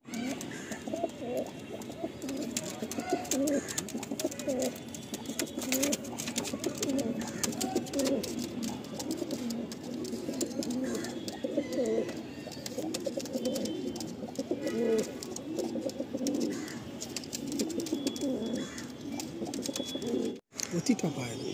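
Fancy pigeons such as Lalsira, Kalsira and Lambadi coo in a loft with a soft, continuous, overlapping throaty murmur close by, while a person talks over it.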